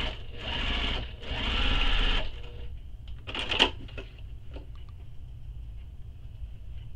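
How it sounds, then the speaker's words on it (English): Sewing machine top stitching along the folded edge of a crossbody bag pocket, two steady runs of rapid needle chatter each lasting about a second, followed by lighter handling clicks and taps of fabric and thread. "So I'm going to top stitch this."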